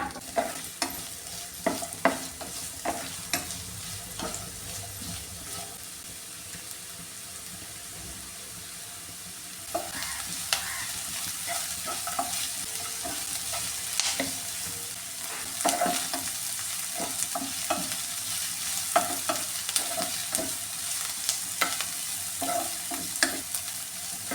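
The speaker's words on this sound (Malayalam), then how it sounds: "ഈ ഉള്ളിയും പച്ചമുളകും ഒന്ന് ചെറുതായിട്ടൊന്ന് വഴറ്റി എടുത്തിട്ടുണ്ട്" Onions and green chillies sauté in hot coconut oil in a kitchen, with a low sizzle broken by repeated stirring scrapes and clinks, near and moderate in level, alone without speech.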